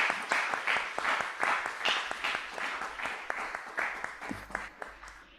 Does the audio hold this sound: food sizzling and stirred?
no